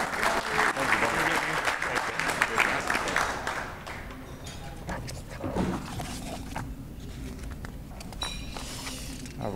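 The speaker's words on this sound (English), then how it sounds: "So give her a round of applause" Applause from an audience at a fishing awards ceremony, loud at first and then thinning into scattered clapping with some voices and crowd murmur underneath.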